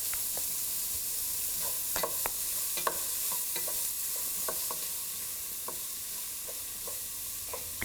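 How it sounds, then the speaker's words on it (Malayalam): Sliced onion sautés in two tablespoons of hot oil in a skillet: a constant soft sizzle with repeated light clicks and scrapes of a spoon stirring, close and moderately loud, no talk. "ഒരു സ്കില്ലറ്റിലോട്ട് 2 ടേബിൾ സ്പൂൺ എണ്ണ ഒഴിച്ച് ചൂടായി കഴിയുമ്പോൾ ഇതിലോട്ട് നമ്മൾ കട്ട് ചെയ്ത് വെച്ചിരിക്കുന്ന സവോള ഇട്ട് വഴറ്റുക"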